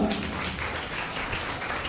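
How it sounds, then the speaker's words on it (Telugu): A Sunday school crowd of children and teachers claps together at a Good Friday skit. The dense, steady applause fills the whole short stretch, with no voices over it. "ఒకసారి అందరం చప్పట్లు కొడదాం గట్టిగా"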